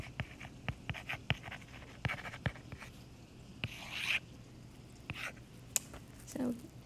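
Pen or marker scratching across a surface while Roman numerals are written out, a series of short close strokes and taps, with a brief louder scrape midway and occasional quiet voice sounds.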